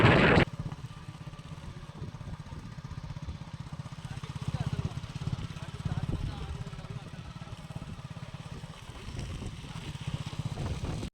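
An electric scooter ridden along a road in third gear, giving a steady low motor hum with road and wind noise that runs unbroken for the whole ride, with a voice faint in the background.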